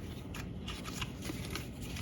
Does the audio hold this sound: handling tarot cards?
yes